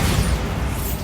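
A Bombarda blasting spell cast in the video game Hogwarts Legacy, heard as a loud, broad rumbling blast that fills the whole second without a break.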